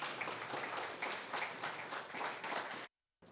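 An audience applauds speakers at a clean energy leadership event, a dense, steady wash of many hands clapping for about three seconds before cutting off abruptly.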